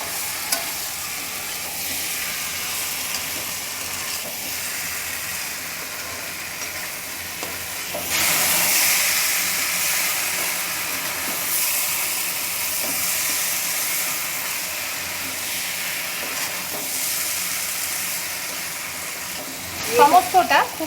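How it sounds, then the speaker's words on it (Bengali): Fried prawns are stirred with potatoes and spices in a pan for a bottle gourd prawn curry, producing a continuous close hiss that swells suddenly partway through, with a few sharp clinks of the spoon at the end. "এবারে ভেজে রাখা চিংড়ি মাছটা দিয়ে দেব। সমস্ত কিছু আবারও একটু নেড়েচেড়ে মিশিয়ে নেব।"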